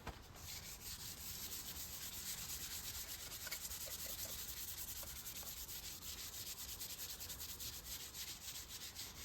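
Continuous fine, hissy rubbing of 1500 grit sandpaper wet sanding a painted part, steady and faint with no pauses.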